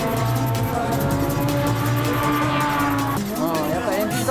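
A race car engine accelerates on a track, a sustained loud whine rising in pitch and then dropping abruptly at a gear change before climbing again, with voices talking over it.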